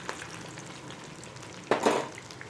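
Chicken 65 pieces frying in oil in a pan, a steady soft sizzle throughout with a sudden louder burst of crackling near the end as pieces are turned, close and with no voices.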